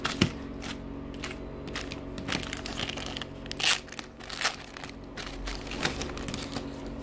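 A small plastic packet is handled and crinkled up close, giving irregular crackling rustles and sharper crunchy bursts with brief quiet gaps.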